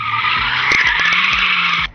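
A Renault Megane Sport skids and spins on a race circuit, a loud, sustained tire squeal held for nearly two seconds over a rough engine note, close, then cutting off abruptly.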